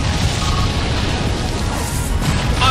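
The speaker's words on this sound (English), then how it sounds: "Annihilated by explosion!" The Explosion move from the Pokémon Battle Revolution video game: a loud, sustained roaring blast of dense rumbling noise that fills the whole moment, with a slight swell near the end.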